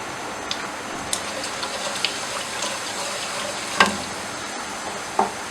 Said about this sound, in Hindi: अब मैं ऑयल में 1 चम्मच ज़ीरा डाल दूँगी